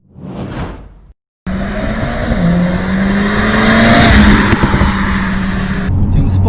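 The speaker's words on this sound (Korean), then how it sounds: "지금 스포츠 플러스로 놓고 주행을 좀 하고 있는데 뒤에서 팝콘 터지는 소리가 잘 들립니다." A 2020 Mercedes-AMG CLA45 S with 421 horsepower, driven in Sport Plus mode, roars as it accelerates with rising engine tone and backpressure exhaust pops, loud and close after a brief cut to silence.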